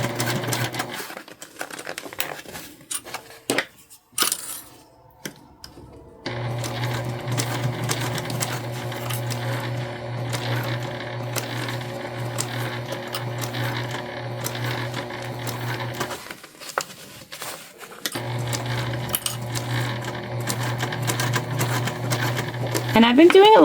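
Sewing machine stitching a fabric bag, running in long steady bursts of rapid whirring stitches with short pauses between them and brief stretches of quiet handling.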